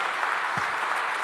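A standing ovation at an inspirational talk: a crowd claps loudly and continuously, a thick wash of overlapping hand claps with no gaps and no voices breaking through.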